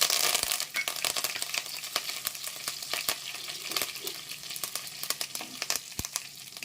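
Mustard seeds, cumin and curry leaves sizzling in hot oil for a Telugu brinjal fry tempering, a steady close crackle with sharp popping spatters scattered throughout.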